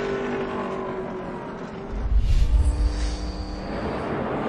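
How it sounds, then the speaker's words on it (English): NASCAR race cars roaring around the track at Loudon during a restart, engines growling and swelling as the field passes nearby, with the loud pack noise fading slightly toward the end. "Kevin Harvick will be on the inside as they come into the restart zone"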